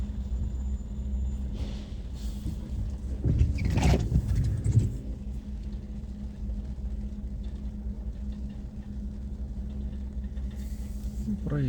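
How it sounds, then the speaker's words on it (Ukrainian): Cars in city traffic on a street in Dnipro's Ozerka district, a steady low rumble of engines throughout with one louder vehicle passing close at about four seconds, and a brief voice near the start. "Тут завжди автомобілів багато."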